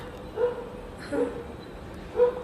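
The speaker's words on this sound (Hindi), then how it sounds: "और कुत्ते देखो सच में भौंकने भी लग गए।" Dogs bark three times at an even pace, each bark short and moderately faint, as if from a short distance.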